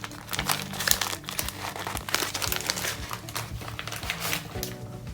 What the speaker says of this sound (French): Et puis j'ai des sachets de thé qui se présentent comme ça.